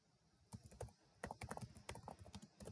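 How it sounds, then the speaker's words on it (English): Keys clatter in quick uneven bursts on a computer keyboard, close and fairly quiet, with short pauses between runs of taps as someone types a verification endpoint. "So here I will type verification endpoint"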